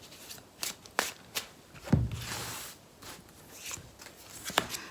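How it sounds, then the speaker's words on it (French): Tarot cards being shuffled and drawn by hand: a string of short papery riffles and flicks, close and fairly quiet, with one fuller slap partway through and no talking. "je vais quand même tirer 5 autres cartes"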